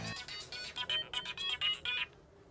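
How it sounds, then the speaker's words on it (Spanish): The studio telephone at a live radio station rings in a fast, warbling electronic pattern, with repeated bursts for about two seconds at moderate volume before stopping. "ya está sonando el teléfono de la radio"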